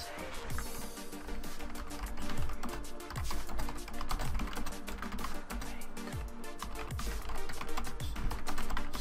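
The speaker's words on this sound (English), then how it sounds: "I'm so sorry about the typing" Fast, steady clicking of computer keyboard keys continues for the whole stretch, close and fairly busy, with no voice over it.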